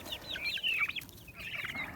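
Turkey poults chirp continuously in high, thin peeping calls, a small flock close by with overlapping cheeps, fairly faint, no voices.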